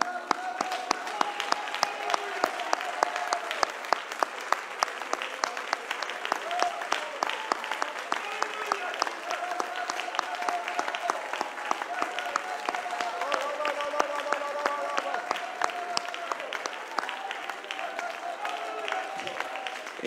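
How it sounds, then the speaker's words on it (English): A church congregation claps together during a service, a long, steady run of clapping with voices rising above it in shouts and sung phrases throughout. "let's give a Lord a hand clap."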